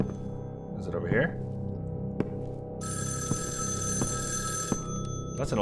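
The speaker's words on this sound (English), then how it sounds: "That's an old school phone right there." Old-fashioned telephone ringing in the horror game Evil Inside, a bright metallic bell ring that sustains for about two seconds amid a low ambient hum, with someone talking briefly beforehand.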